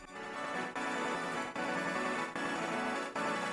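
Piano keys run through a 3D granulizer effect for a beat, forming a dense, continuous shimmering texture with brief dips roughly every 0.8 seconds, loud and steady with no voices.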